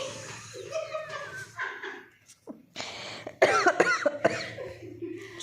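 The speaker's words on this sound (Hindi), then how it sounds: "सॉरी गाइस मुझे ज़रा खांसी का मसला है" Several harsh, close coughs and throat clearing in bursts, with short pauses between fits.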